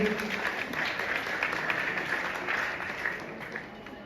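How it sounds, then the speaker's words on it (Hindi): Applause welcomes a performer playing Hindi Mata at a national unity camp in Ujjain, a steady even wash of many hands clapping at moderate distance, fairly soft and sustained throughout. "जोरदार तालियों से हम हिंदी माता का स्वागत करेंगे"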